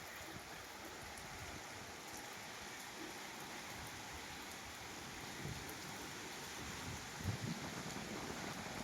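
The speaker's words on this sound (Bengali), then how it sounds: "জোরদার হচ্ছে বৃষ্টি আর ঝড়।" Heavy rain pours steadily during a storm, a dense continuous wash of drops with gusty wind, with no voices over it.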